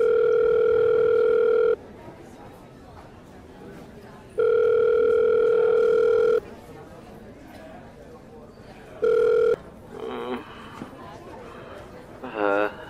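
A telephone rings in three loud electronic bursts, two long and one short, separated by quieter gaps with faint background sound and brief voice-like noises near the end.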